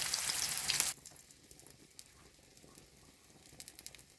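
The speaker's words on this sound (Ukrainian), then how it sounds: "Зараз його обсмажую, додаю ковбасу яйця" Potatoes frying in a pan with sausage and eggs, a steady soft sizzle and crackle after a short loud burst of hissing at the start, close by with no talking.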